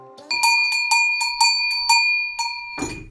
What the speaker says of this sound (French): Et cette forme de sonnette a été créée par Pierre Devoissou